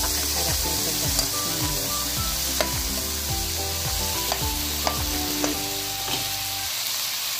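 Leftover lechon (roast pork) sizzles and crackles in a cooking pot for lechon pata sinigang, a steady frying hiss with stirring clatter running throughout.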